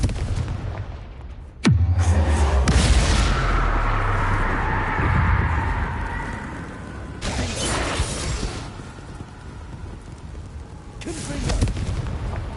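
A sharp, loud blast opens an explosion spell in a Harry Potter video game, followed by a rumbling, crackling aftermath that fades. Further whooshing bursts and a later impact sound out among the ongoing game effects.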